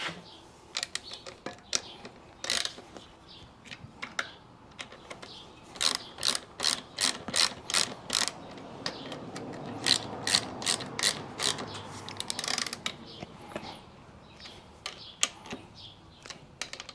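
A ratchet tightens a bolt into the wheel hub of a Kawasaki F7 175 Bushwacker motorcycle, giving close, crisp bursts of rapid clicking with short pauses between strokes and no talking.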